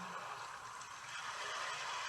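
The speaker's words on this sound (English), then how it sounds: "It's the sound of the sea." Sea surf giving a soft, steady broadband wash, faint and even for a couple of seconds with no voices.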